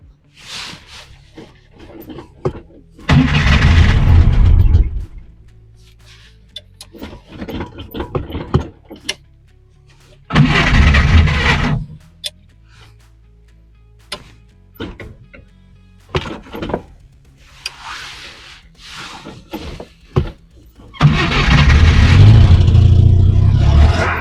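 A Moskvich 2141 car that has stood unused for two weeks is cranked in three separate loud bursts of engine noise. Quieter mechanical clicks and clatter fill the gaps between attempts.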